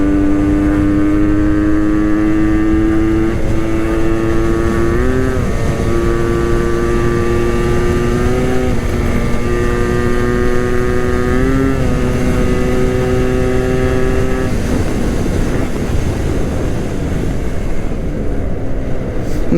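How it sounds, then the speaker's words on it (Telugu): A Yamaha RX motorcycle engine revs steadily while riding on a road, a loud two-stroke drone with rising and falling pitch sweeps, continuous for the whole stretch and alone without talk. "బండి రేజ్ అవుతానే ఉంది"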